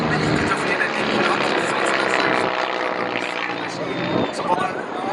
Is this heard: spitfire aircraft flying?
yes